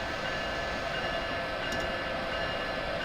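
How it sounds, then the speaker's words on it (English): An Amtrak passenger train passing in the Train Simulator 2015 video game gives a steady, even rumble with a constant hiss that holds at one level throughout, with no horn standing out. "Oh, there's another Amtrak train right there."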